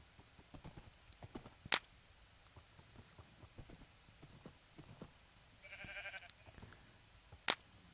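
A horse in the Minecraft video game, soft hoof clip-clops tapping irregularly throughout, with a brief snort or neigh midway and two sharp clicks, fairly quiet overall.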